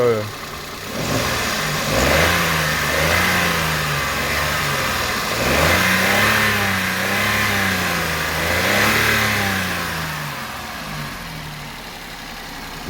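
A 2009 Subaru's Japanese engine is revved repeatedly by hand at the throttle body, rising and falling in a few smooth waves, with someone talking over it.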